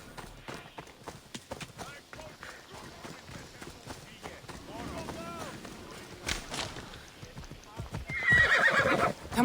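Horse hooves clip-clop at a run in the video game Assassin's Creed Odyssey, with a whinny near the end and game sounds and music layered around them.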